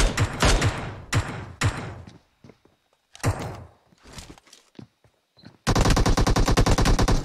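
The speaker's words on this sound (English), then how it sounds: "both teams are displaying heavy fire" Heavy gunfire in a battle during a duo tournament video game: bursts of rapid automatic fire and single shots, separated by brief quieter gaps, ending in a sustained loud stream of fast automatic rounds.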